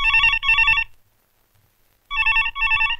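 A telephone bell rings loud and near in two bursts of double trills, each about a second long, separated by a silent gap, with no voices over it.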